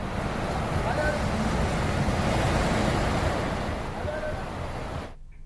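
Floodwater from the Ganges surges in a dense, continuous wash of rushing water, loud and steady before cutting off abruptly at the end.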